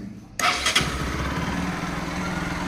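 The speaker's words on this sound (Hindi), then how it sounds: "ये बाइक पे सेल्फ मारी हमने।" A Pulsar RS200 motorcycle cranks on its electric self-start after a quiet moment, catches with a sharp burst of revs, then settles into a steady close-up idle.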